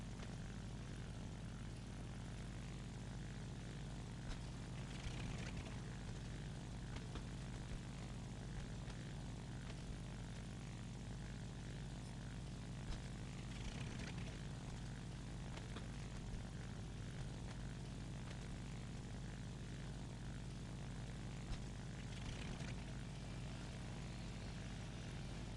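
A G.50 Freccia propeller fighter in War Thunder drones steadily throughout, its engine a constant loud hum with a low throbbing tone, heard alone without speech.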